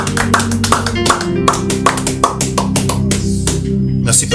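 A church congregation claps in a steady rhythmic beat during a worship service, loud and close, with sharp repeated hand claps filling the space and a faint voice underneath.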